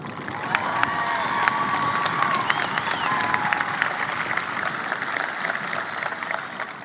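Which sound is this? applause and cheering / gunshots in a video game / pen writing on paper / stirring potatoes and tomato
applause and cheering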